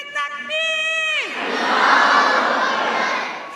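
Large women's crowd at Jalsa Salana Germany answering a Nara-e-Takbir call: a sustained tonal shout from the leader, then a loud roaring chorus that swells and slowly fades.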